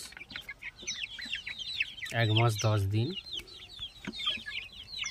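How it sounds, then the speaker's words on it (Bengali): Month-old Sonali chickens cluck and cheep steadily while pecking at feed, a busy flock close by. Someone speaks briefly in the middle. "সোনালী মুরগি এগুলো দেখুন কিভাবে খাবার খাচ্ছে"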